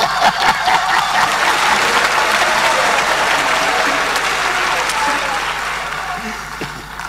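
A large audience claps steadily in a dense wash of applause that gradually tapers off toward the end, at a presidential campaign launch in Ghana.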